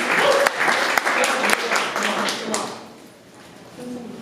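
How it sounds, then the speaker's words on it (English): Audience applause at a startup fireside event, a burst of close clapping with distinct sharp claps that thins and fades out toward the end, followed by a quieter room with a faint voice. "Hey, give it a round of applause for John."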